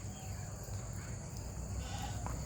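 A pet goat with long ears and a pink nose bleats faintly in a few short calls over a steady background hum.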